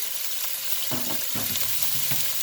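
Vegetables and chicken for lo mein are stir-fried in a hot pan, giving a dense continuous sizzle punctuated by a few quick tossing and scraping strokes close by.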